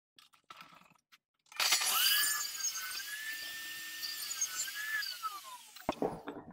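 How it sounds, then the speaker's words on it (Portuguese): Table saw set to the wood's thickness cutting matching pieces of wood; a few light knocks, then a high, steady whine of blade through wood for about four seconds, ending with some clattering taps. "Ajustei a serra na espessura dessa madeira e agora, com a mesma medida dela, eu vou cortar os outros dois pedaços de madeira"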